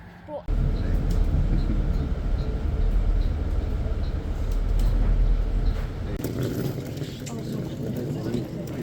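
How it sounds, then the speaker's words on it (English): A train rumbles in close by, low rolling noise and rail clatter building then easing, with people talking over it. "quite unexpectedly, we got a train instead of a bus"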